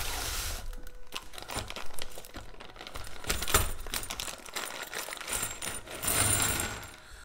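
Metal washers and plastic drywall anchors from a set of garage hook hardware clink and rattle as they are handled, bursts of light metallic jingling and crinkling plastic packaging, close and irregular with short pauses.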